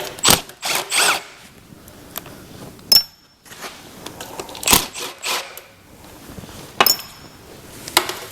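Rusty bolts being spun off with a socket on a 1979 GMC Heavy-Half truck: short bursts of power-tool whirring and metallic clinks come in uneven spurts, with quiet gaps between.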